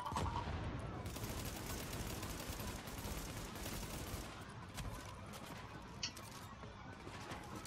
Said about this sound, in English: That, he's got a minigun.